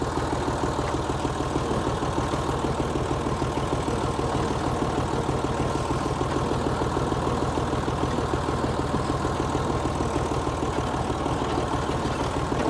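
A tractor engine idles and runs steadily at close range during a ride out to a field, a continuous low rumble with a regular knocking pulse and no talking.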